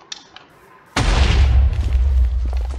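Fireball explosion in Minecraft Hypixel Bedwars: a loud, sudden boom hits after a near-silent start, then a sustained rumbling blast with heavy low end that carries on for nearly two seconds.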